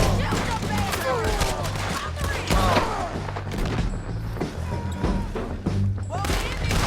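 Gunfire in the video game Red Dead Redemption 2 during a bridge chase, repeated shots and thuds in a busy fusillade mixed with shouting voices.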